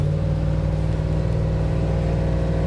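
Classic Ford Bronco resto-mod with a V8 engine, a deep steady idle-to-rev rumble heard up close and running continuously without voices.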